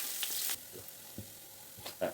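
Whole spices (peppercorns, cloves, cardamom, cinnamon) frying in a spoonful of ghee in a heated pan for beef biryani, a soft steady sizzle with faint stirring scrapes and light pops, fairly quiet and close.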